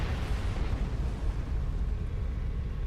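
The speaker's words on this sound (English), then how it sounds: "Central tunnel with explosions all around us." Triggered explosions in a video game tunnel: a continuous, heavy low rumble of blasts and debris that stays loud and steady throughout, with no talk over it.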